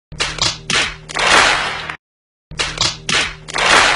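Hands clap in a short round of applause, a few loud close slaps in quick bursts, a brief silence, then the same clapping pattern repeats.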